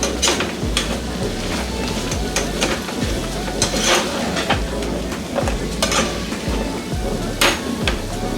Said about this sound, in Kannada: ಕಂಪ್ಲೀಟಾಗಿ ಮಿಕ್ಸ್ ಮಾಡ್ಕೊಳ್ಳೋಣ.